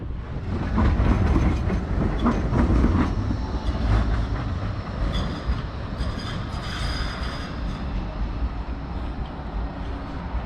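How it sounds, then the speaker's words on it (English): A Blackpool tram rolls past along the seafront promenade near South Beach, a loud close rumble with rail clatter and faint wheel squeal that peaks early and eases as it moves on, with no talking. "It's a tram!"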